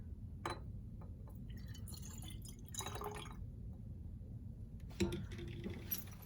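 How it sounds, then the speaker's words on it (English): About 100 milliliters of distilled water from a graduated cylinder is added to a glass lab flask, heard as quiet, scattered trickles, drips and small glassy clinks in sporadic bursts over a low background, with no talking. "measure out 100 milliliters of distilled water, and add this to the flask"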